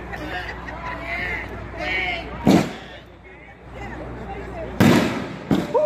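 Fireworks at a demo night explode in sharp, loud booms, one early and two close together near the end, over crowd chatter and cheering.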